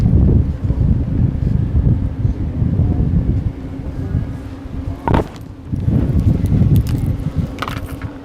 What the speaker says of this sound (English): Wind picking up again.